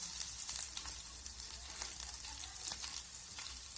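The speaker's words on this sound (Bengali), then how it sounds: "আদার কাঁচা গন্ধ চলে যাওয়া পর্যন্ত আমি নেড়েচেড়ে এইভাবে ভেজে নেব" Ginger fries in a pan as it is stirred, with a soft continuous sizzle and scattered light crackles and scrapes, heard faintly and close.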